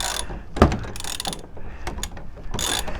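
A Bilstein 6112 coilover spring compressor being slowly loosened, giving close, repeated metallic ratchet clicks and clanks in short uneven bursts with no talk.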